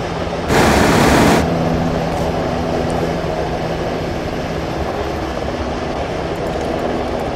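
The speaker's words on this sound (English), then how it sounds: "We have to follow this chopper until it lands." Helicopter flying in the video game Arma 3: a steady, droning rotor hum runs throughout, with a loud broadband burst near the start, and no voices.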